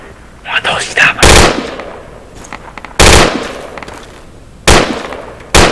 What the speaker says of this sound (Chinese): AK 枪声